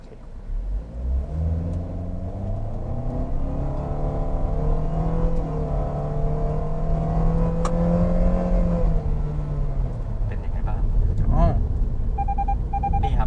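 A Toyota Veloz MPV accelerating in power drive mode, its engine rising in a steady climbing drone from inside the cabin before easing off, with people talking over it.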